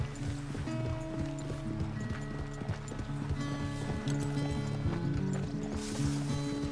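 Steady clip-clop of a horse's hooves in Red Dead Redemption 2 at a quick, rhythmic pace, continuous and close, with a low mechanical hum running beneath.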